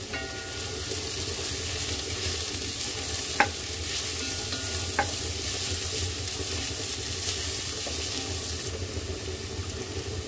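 Steady sizzling of garlic, onion and ginger frying in a pan, a continuous crackle with a couple of brief clinks of a utensil; no talking.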